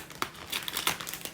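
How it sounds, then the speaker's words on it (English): Plastic wrapping on a bonus knitting magazine crinkles and rustles as scissors cut it open, close and soft with several small sharp snips and crackles. "this time I remembered to use the scissors"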